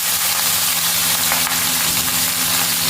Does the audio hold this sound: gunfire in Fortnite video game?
no